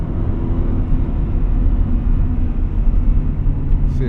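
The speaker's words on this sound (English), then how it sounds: "So now we're driving the Type SH." A 1998 Honda Prelude Type SH driving, heard from inside the cabin as a steady, loud low engine and road rumble that continues evenly throughout.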